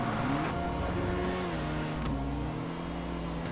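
Engine of the Jones family wagon sliding through a drift in GTA 5, a steady loud motor tone that rises and dips in pitch with a brief lurch midway, close and continuous without talk.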